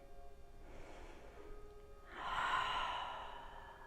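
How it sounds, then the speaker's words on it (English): A single soft open-mouthed exhale during standing yoga poses, a faint breathy rush that swells near the end over low room hiss, close and quiet with no talking. "Exhale, open your mouth, let it go."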